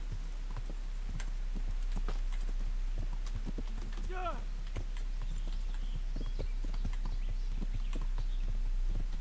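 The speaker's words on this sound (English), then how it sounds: "We're going to call the teleporting horse, and we're going to ride." A horse in the video game Kingdom Come: Deliverance moving at a steady clip-clop of hooves, rhythmic and continuous, with a brief whinny midway and someone talking over it.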